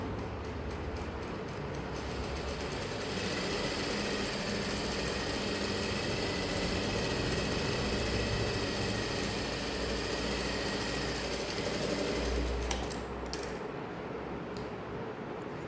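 A sewing machine stitches the folded edge of a saree blouse, a continuous rapid mechanical rattle and hum at close range that runs steadily for a long stretch before slowing and stopping near the end.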